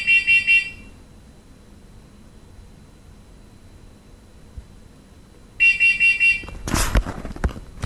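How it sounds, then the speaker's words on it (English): A combined smoke and carbon monoxide alarm under test gives loud bursts of shrill, rapid beeping, first a short group, then a long quiet gap, then another group followed by rustling and handling noise. "Our smoke alarm testing is complete."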